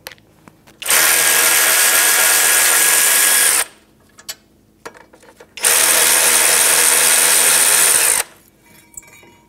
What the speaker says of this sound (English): Then I'll get my electric ratchet.